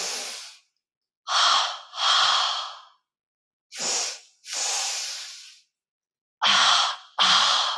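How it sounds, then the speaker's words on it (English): Deep belly breaths during a yoga session: several long, hissing inhales and exhales in a slow, steady rhythm, close and clear with silence between them. "Our first 10 is into our belly. So breathe together."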